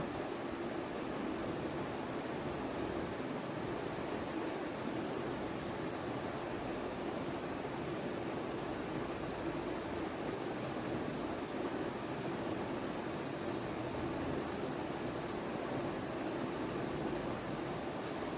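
Two eggs frying in a pan while chow mein is cooked at home: a steady, even sizzling hiss with no breaks, quiet and continuous.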